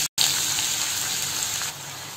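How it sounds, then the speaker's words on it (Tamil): Steady, loud sizzling of mustard seeds and onions frying in hot oil, a dense crackling hiss close by that stays constant throughout. "இப்போ கடுகு நல்லா வெடிக்க ஆரம்பிச்சிருச்சு"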